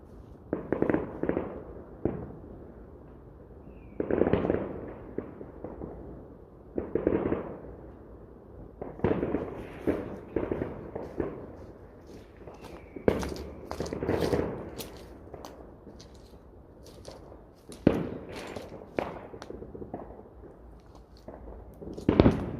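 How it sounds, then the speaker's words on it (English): Silver dart firework rockets launched outdoors on Bonfire Night: a series of whooshing launches and sharp crackling bursts, some close and loud, others fainter, clustered toward the end with little talk. "So these are the silver dart rockets"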